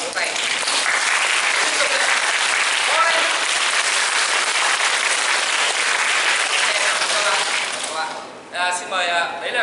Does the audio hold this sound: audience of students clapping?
yes